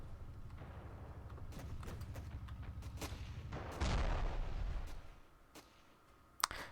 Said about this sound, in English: They at least have a flak cannon.